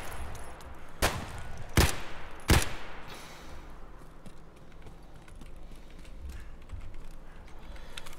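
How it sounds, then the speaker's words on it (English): Three loud, sharp gunshots crack in quick succession in the video game Escape from Tarkov, followed by quieter ambient noise and faint movement sounds. "Yep, shoot me through the fucking tree."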